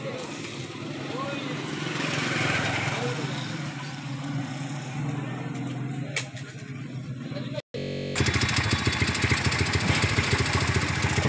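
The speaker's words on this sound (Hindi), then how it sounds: "ये हमारी खटारा बाइक इधर खड़ी है," An old, worn-out motorcycle engine idles with a steady, rough chugging, starting as a broader rumble before a brief dropout and then a sharper, regular putter close by.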